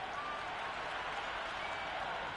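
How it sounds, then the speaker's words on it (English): A cricket crowd at an India versus South Africa match keeps up a steady, broad wash of applause and noisy cheering that holds through the whole stretch without a break. "The crowd are really getting quite raucous."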